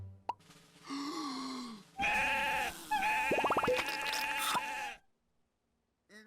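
Cartoon sheep bleat in a busy animated scene from Uncle Grandpa, with wavering bleats layered over bouncy plops and comic effects, loud and close, before cutting to silence.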